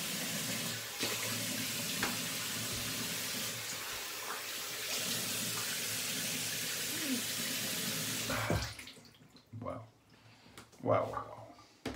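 Warm tap water runs in a steady hiss into a sink for most of the stretch, then shuts off, leaving a few quiet handling sounds and brief speech.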